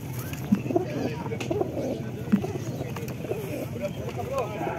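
Low, soft cooing from several pigeons at a market mixed with a busy background of other birds and faint murmuring voices, fairly close.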